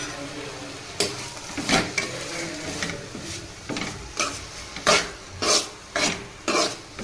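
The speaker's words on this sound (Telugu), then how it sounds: "బాగా కలుపుకోవాలి" A spatula stirs sorrel (gongura) leaves frying in a pan with salt, making close scraping strokes in a loose rhythm, about ten of them, that come faster and louder toward the end. No one speaks.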